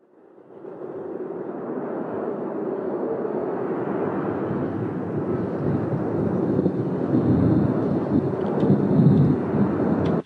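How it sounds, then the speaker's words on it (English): Layered wind and thunder effects mixed together for a time-lapse shot, a steady broad rumbling roar that swells gradually and grows louder toward the end, with no voices. "I've got wind and thunder, and I'm combining the two things here"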